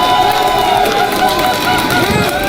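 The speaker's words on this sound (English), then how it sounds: "mettez la max pour PUNK s'il vous plaît." A large crowd at an EVO France fighting game tournament roars with sustained cheering and applause, loud and dense throughout.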